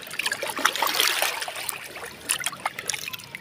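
Fish washed by hand in seawater at the shore, close splashing and trickling water with irregular sloshes, no speech.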